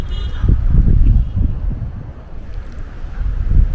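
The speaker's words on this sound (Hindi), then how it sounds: "हवा का वेग इतना तेज़ है" Strong wind buffeting the microphone on a high mountain top near Muktinath, Nepal, a loud continuous low rumble with gusts swelling and easing, no voices.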